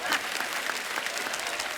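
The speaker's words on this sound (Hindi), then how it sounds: "इनके कुक के लिए जोरदार ताली।" Studio audience on a Hindi TV comedy show applauding a cook, a dense, steady patter of clapping from a crowd that continues for the whole short stretch at moderate loudness.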